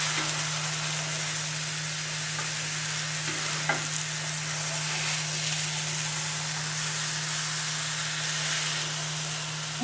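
A large, very wide vegan cinnamon pancake sizzles and fries in a pan through a steady hiss with a low hum, with a soft knock or two as it is flipped; no one speaks.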